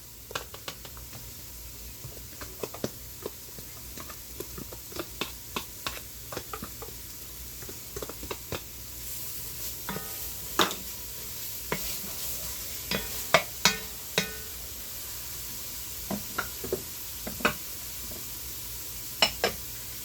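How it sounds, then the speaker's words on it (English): Vegetables and garlic sautéing in butter, a steady soft sizzle with frequent clicks and scrapes from stirring in the pan, the frying hiss growing brighter partway through, no speech. "After I saute these veggies down a bit. Okay, I'm going to add the garlic and a little bit more butter."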